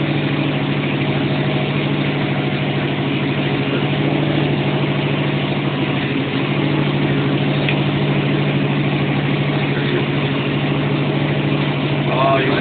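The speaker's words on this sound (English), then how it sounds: "Now what I do is I just loaded the engine. You hear that RPM come down" A steady, loud 502 engine drone on a dyno holds a constant low rumble throughout, running under heavy load without revving up or down.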